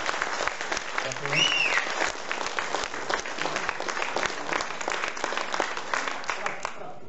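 Audience applause erupts after an accordion song at a folk accordion event in Slovakia, a dense steady clapping that holds for several seconds before thinning out, with a brief voice heard over it.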